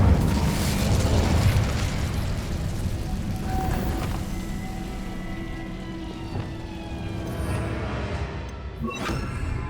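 In the Hogwarts Legacy video game, the Incendio fire spell is cast with a loud, roaring fiery burst that carries a dense rumble and crackle, then slowly fades under lingering game ambience.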